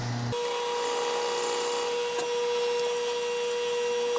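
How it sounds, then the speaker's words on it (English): A steady high-pitched whine of a power drill boring a 3/8 pilot hole into a wood pen blank, close and continuous after a brief start, with occasional small knocks. "I'm going to drill a pilot hole 3/8"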